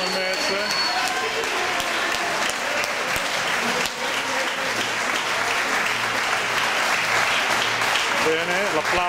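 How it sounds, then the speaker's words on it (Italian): A crowd applauds after a combat sports match, sustained and fairly loud clapping with an announcer talking over it throughout. "l'applauso di tutto il pubblico"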